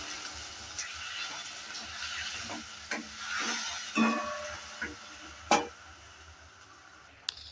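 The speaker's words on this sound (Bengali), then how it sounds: "পেস্টটা দেওয়ার পর হালকা একটু নেড়ে চেড়ে নিচ্ছি" Cauliflower and soybean curry with freshly added spice paste being stirred in a pan, giving a faint sizzle and a few soft, scattered scrapes and taps of a spoon.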